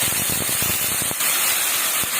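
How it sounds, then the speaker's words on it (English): Hot boiling water poured into fish frying with mustard, giving a steady loud sizzling hiss with brief crackling pops throughout. "Now I'm going to throw in the hot boiling water there."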